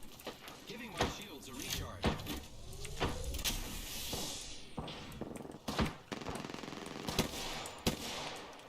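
Heavy-ammo guns fire in the video game Apex Legends as a series of sharp, loud shots spread at irregular intervals, with sliding mechanical clatter between them and voices talking over the action.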